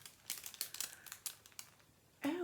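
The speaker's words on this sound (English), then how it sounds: "Another rustling, it's in cellophane." Cellophane wrapping around a small bag of lavender buds crinkles during unboxing, a series of light close rustles ending in a louder crackle.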